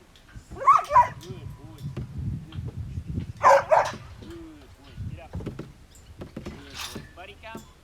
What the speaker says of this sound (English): just getting him to show his bark